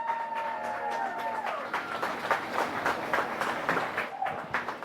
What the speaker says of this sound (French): Allez, encore un tour d'applaudissements, s'il vous plaît.